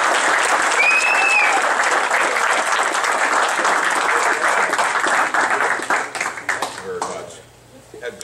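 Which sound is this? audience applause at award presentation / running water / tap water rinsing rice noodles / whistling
audience applause at award presentation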